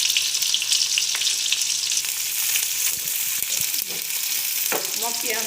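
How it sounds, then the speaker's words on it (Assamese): Sliced onion fries in hot oil for an Assamese-style chicken chop, a loud, constant sizzle with occasional scrapes and clinks of a spoon stirring in the pan. "মই পিয়াজটো অকণ লৰাই লৈছো"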